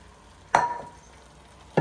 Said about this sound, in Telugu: ఇప్పుడైతే మా డాడీ ఫిష్ ముక్కలు అయితే వేస్తున్నారు.